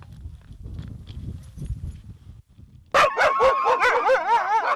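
Greenland sled dogs bark after a stretch of low rumbling movement, a sudden loud chorus of close, overlapping barks and yelps.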